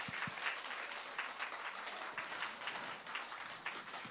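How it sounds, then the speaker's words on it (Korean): Church congregation applauding during a Sunday evening worship service, a steady wash of many hands clapping that carries through the whole moment at a moderate, slightly distant level. "박수 쳐주세요 한번."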